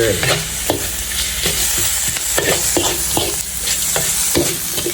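Quail being stir-fried in a hot wok with chili and kaffir lime leaves, with a steady loud sizzle and repeated scraping strokes of a spatula at an irregular rhythm, close by and with no voices.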